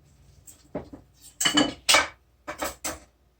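Several sharp hard knocks and clinks, unevenly spaced, sound like ingredients for a tempeh stew being pounded with a rock in a clattering container.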